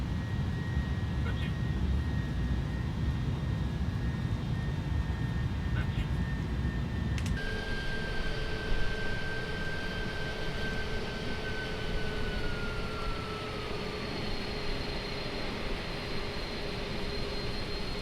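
Jet engines of an Airbus A310 airliner landing in a flight simulator, a loud continuous roar with a steady whine that shifts partway through and then slides gradually lower in pitch.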